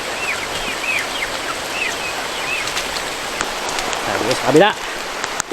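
Steady rain falls with a dense hiss around a chicken farm in Bauang, La Union, while a person speaks briefly and chickens chirp over the downpour.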